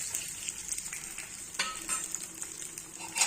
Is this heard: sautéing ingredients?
yes